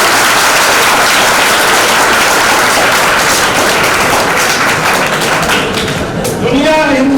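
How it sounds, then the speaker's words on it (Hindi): Loud, sustained applause from a large audience at a political rally, dense continuous clapping filling the whole stretch with some whistles or shouts near the end. "ये बात कितना जोरदार ताली में दीजिए।"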